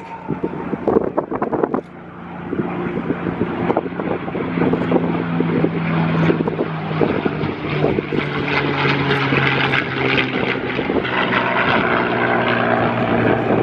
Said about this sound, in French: Le P-51 Mustang.